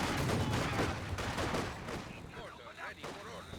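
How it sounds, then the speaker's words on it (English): Mortar barrage in the World War II strategy game Company of Heroes 2, a veteran mortar team shelling an area, with dense overlapping explosions and gunfire rumbling loudly, thinning into scattered distant blasts and battlefield noise. "Yes, he is going to barrage the area."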